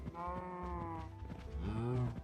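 Cows calling in a video game: a couple of drawn-out, bleating moos with wavering pitch, the second rising louder near the end, heard close and without talk.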